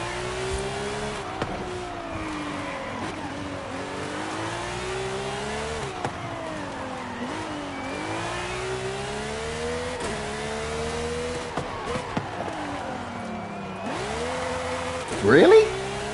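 A car engine revs steadily against the rev limiter, its tone wavering up and down in a sustained drone with a brief squeal near the end, while people talk in the background.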